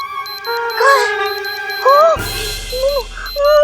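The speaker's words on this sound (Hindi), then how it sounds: "ये पिचकू की आवाज नहीं है, ये एक चेतावनी यंत्र की आवाज है" A warning alarm device rings in a fantasy TV scene, a steady pulsing electronic tone with warbling chirps layered over it, loud and close, shifting into a harsher buzzing texture midway.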